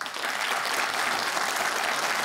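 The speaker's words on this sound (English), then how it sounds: "it's so good to hear clapping again in the room." A studio audience at a televised Q+A panel discussion claps steadily, a dense even wash of many hands, fairly loud and close, with no voices on top.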